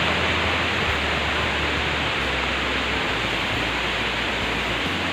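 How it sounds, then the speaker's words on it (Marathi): Gurgling water of the Narmada river along a forest footpath near Dudhdhara waterfall in Amarkantak, a steady, dense rush heard close and alone throughout, with no talking. "त्या मैयेचा पाण्याचा खळखळ आवाज"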